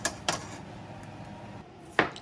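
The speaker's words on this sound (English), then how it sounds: "He's chopping the potatoes over here to put into the pan so that we can get them started." A knife chops potatoes on a board for frying in a pan, giving a few sharp, separate strikes near the start and again near the end, with a steady kitchen background between them.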